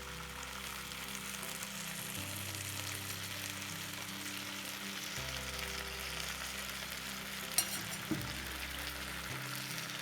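A Gobi Manchurian gravy with tomato and chili sauce is stirred in a pan, giving a faint steady sizzle with occasional soft scraping clinks, heard without talk.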